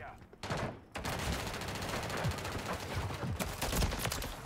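Gunfire in Call of Duty MW3 multiplayer, a dense stretch of shots and bursts running almost nonstop after a short gap near the start, loud and close, with game noise mixed in.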